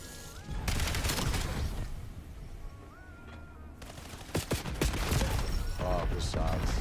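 Rapid automatic gunfire in the video game Call of Duty, sustained bursts of shots with brief gaps, loud and close, mixed with game effects and a player's voice talking.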